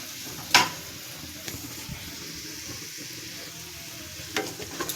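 Onions and potatoes frying in a pan, a faint steady sizzle with a couple of sharp stirring clicks and scrapes.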